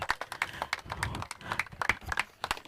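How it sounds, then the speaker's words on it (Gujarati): Applause and clapping from a crowd at a cricket tournament final prize distribution as the man of the match is honoured, irregular claps rising and falling across a moderate, mid-distance ovation. "જોરદાર તાળીઓ ભાઈ"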